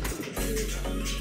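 Racing pigeons in a loft, a soft close coo with a low rumbling hum and faint rustling around it.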